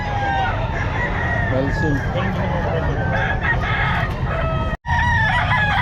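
Roosters crowing and clucking loudly and close by at a pet market, with a voice talking over the birds throughout.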